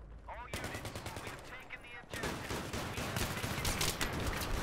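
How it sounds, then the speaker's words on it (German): Rapid automatic gunfire in the Battlefield 3 multiplayer match on Ziba Tower, dense bursts of shots after a brief pause, close and loud, with faint voices underneath. "Einfach hier rumballern."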